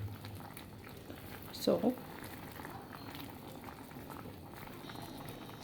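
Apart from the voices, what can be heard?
trout and vegetables steaming in coconut milk mixture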